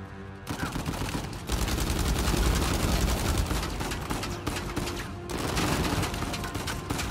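Dense, continuous gunfire in the video game Uncharted 4: A Thief's End, with loud rapid shots layered into a sustained barrage that briefly drops away before resuming.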